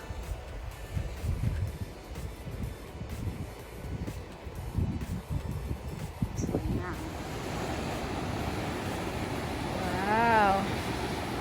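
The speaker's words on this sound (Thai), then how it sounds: "ทะเล ชายหาดเริ่มเหลือนิดเดียวแล้วนะคะ" Sea waves wash onto a narrow beach on a sunny afternoon, a steady broad surf roar mixed with wind buffeting the microphone, while someone talks over it.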